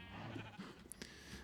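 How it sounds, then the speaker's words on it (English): A sheep bleats in the video game Minecraft, a short nasal bleat standing out against a busy, faint game background with scattered clicks and chimes. "that sheep might have come back"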